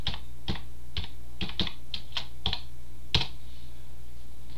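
Keys clatter in quick bursts of a few strokes with short pauses between them as someone types on a computer keyboard during a Windows setup task, fairly close and alone with no talking.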